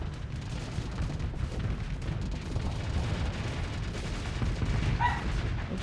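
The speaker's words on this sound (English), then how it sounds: "Oops, I'm taking some torpedoes there from the gremlin." Torpedoes slam into a ship during a Starsector space battle, a steady rumbling barrage of dull impacts and booms packed densely for several seconds, with no clear break between hits.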